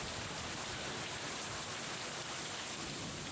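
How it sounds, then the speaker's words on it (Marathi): Heavy rain in strong wind over Sambhajinagar, a steady dense broadband wash that stays loud and even throughout, with no talking. "ही दोन दृश्य संभाजीनगरमध्ये जोरदार पाऊस पडतानाची, सोसाट्याचा वारा सुद्धा आला"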